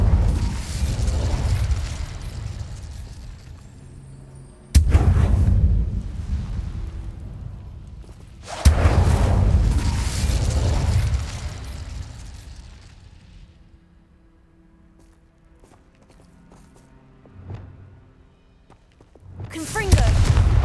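The Incendio fire spell cast in the Hogwarts Legacy video game, heavy booming bursts of flame that erupt abruptly several times, loud and close, each decaying into a roaring rumble with quieter gaps between.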